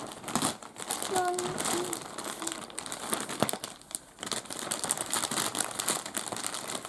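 A large plastic package of biscuits is torn open and crinkled by hand, with continuous close crackling and rustling throughout and a voice heard briefly.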